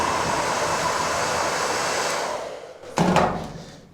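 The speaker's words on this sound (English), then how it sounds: "So, combination with the hairdryer" A hair dryer blows with a steady, loud whooshing roar on a rusty classic car, then dips and surges again near the end, close by and with no talking.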